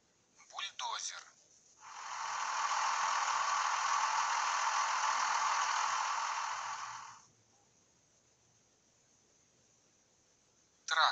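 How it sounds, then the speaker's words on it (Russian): A bulldozer engine drones as a steady, even roar for about five seconds, rising in and cutting off abruptly, with a short spoken word just before and after it. "Бульдозер."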